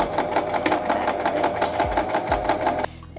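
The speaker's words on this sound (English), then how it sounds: "we will just sew along this line" A sewing machine stitches a French seam in a rapid, even mechanical rattle that runs steadily for a few seconds, with a couple of low thumps, then stops abruptly near the end.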